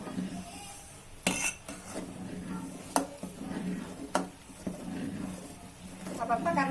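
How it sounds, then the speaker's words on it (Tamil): A ladle scrapes and knocks inside a heavy pot of milk kozhukattai, giving a few sharp clinks among softer stirring scrapes, close by and moderately loud. "அப்பப்ப கரண்டிலாம் கிண்டிக்கணும்."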